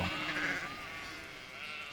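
Ewes on a vineyard grazing farm, where sheep shelter during heavy rain, bleat in a single drawn-out call at moderate distance, trailing into a soft outdoor murmur.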